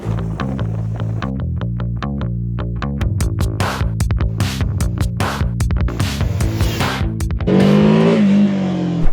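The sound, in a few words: BMW F450GS two-cylinder inline motorcycle engine running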